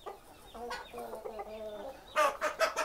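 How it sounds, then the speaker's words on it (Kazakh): Tegas breed hens cluck while they eat, with steady, close, throaty calls overlapping before a louder burst of sharper squawks near the end. "Тегас тауықтарын"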